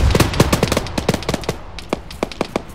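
Bursts of heavy machine-gun fire from a technical in the Arma 3 video game, loud sharp reports in rapid rattling strings, dense at first, then thinning into scattered single shots.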